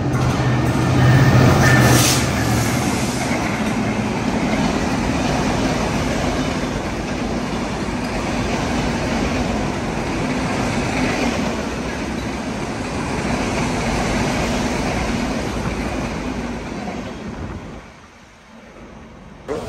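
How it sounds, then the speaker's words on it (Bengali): A fast non-stop train roars through Ullapara station with a continuous loud rumble and wheel clatter that holds for most of the pass, then drops away abruptly near the end. "দ্রুতগামী একটা ট্রেন পার হয়ে যাচ্ছে।"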